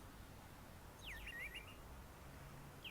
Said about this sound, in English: There's a bird doing an R2-D2 noise